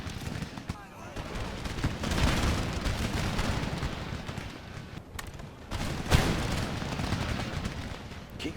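Musket volleys crackle across an Empire: Total War battlefield, dense rolling gunfire with sharper cracks standing out, steady and moderately loud, with a faint rumble beneath.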